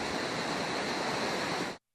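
Rushing floodwater in a normally dry waterway after days of nonstop rain, heard as a steady, loud broadband roar with no voices, cutting off abruptly near the end.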